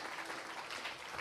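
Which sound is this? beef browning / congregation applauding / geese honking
congregation applauding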